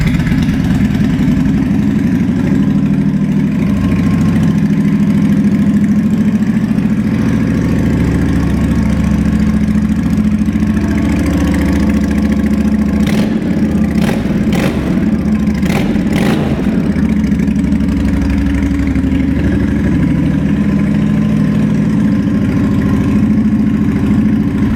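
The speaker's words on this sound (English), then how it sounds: "See, those Cobra pipes do sound excellent." A 2007 Honda VT750 Shadow Spirit motorcycle fitted with Cobra exhaust pipes idles steadily with a deep, loud, even low rumble, a few brief revs rising midway before settling back to idle.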